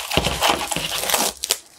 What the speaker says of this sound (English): So we'll need to unwrap the plastic first.